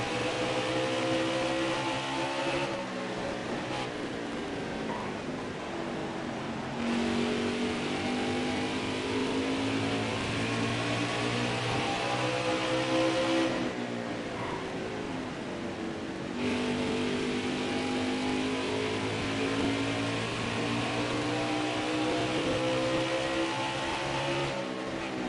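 Stock cars roaring around Richmond in an Xfinity series racing video game, with a steady loud engine drone whose pitch rises and falls through the laps, continuous and dense with no voices.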